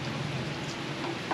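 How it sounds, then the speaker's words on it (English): Steady rain falls outdoors, a dense even hiss of drops without pause, moderately faint and continuous, with no voices. "It's still raining"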